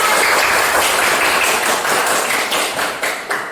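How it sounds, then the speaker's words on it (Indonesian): Schoolchildren clap together during a classroom ice-breaking game, a dense, continuous patter of many hands held close and loud for several seconds before easing slightly at the end. "Tepuk 1, tepuk 2, tepuk 3. Tepuk tangan."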